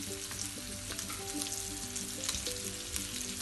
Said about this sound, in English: Now I put all the shallot that I cut.